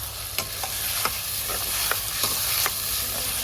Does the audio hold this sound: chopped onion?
yes